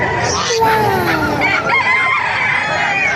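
Roosters crow at a chicken farm in Calumpit, Bulacan, loud and close, with clucking fowl mixed in while someone talks over them.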